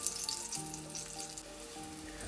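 Eggplant slices fry in hot oil with a steady, crackling sizzle, close and continuous, with faint tonal kitchen hum underneath and no voices.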